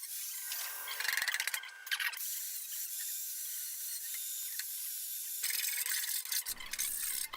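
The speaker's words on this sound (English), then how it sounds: "I used a file to straighten out all the burrs and clean up the opening" A hand file scrapes burrs from the cut opening of a metal Thien baffle in short rasping strokes, a burst early on and another near the end, with quieter rubbing in between.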